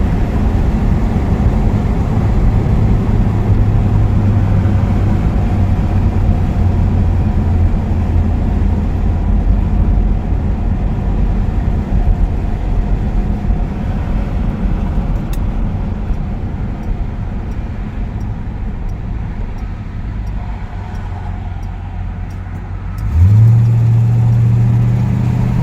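A Pontiac LeMans with a rebuilt TH350 transmission, posi rear end and dual exhaust through a 2 1/4-inch system with turbo mufflers drives steadily, a loud continuous low engine rumble, with a sharper rise in revs near the end.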